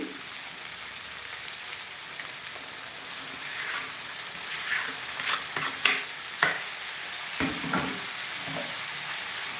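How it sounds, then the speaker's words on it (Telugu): Tomatoes go into a hot pan for potato curry and set off a steady, close sizzle and hiss, with a few stirring knocks and scrapes, and no talk. "టమాటో వేస్తున్నానండి"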